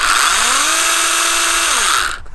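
A Ryobi RY18PSX10A-0 cordless pruning saw cuts into a tree stump outdoors, a loud steady buzzing whine that drops in pitch under load, then cuts off abruptly at the end.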